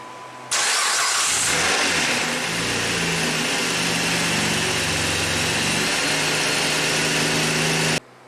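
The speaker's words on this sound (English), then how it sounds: "That little rattle you hear when you first turn the key and the engine cranks over, that's the timing chain rattling because it's loose." A Chrysler 2.7 engine with a loose timing chain and failed tensioner cranks and fires up, a brief metallic rattle at startup before settling into a loud, steady close-up idle that cuts off abruptly.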